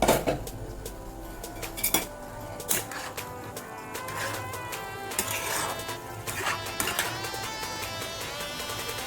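Metal lid lifted off a pot of simmering Bengali chicken mince and banana flower curry, giving a run of sharp clanks and clinks, loud and close, then lighter rattling utensil knocks.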